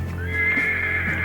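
A horse neighs and whinnies in a steady, sustained call, close and fairly loud, heard on its own with no talk, as a sound effect within a told story.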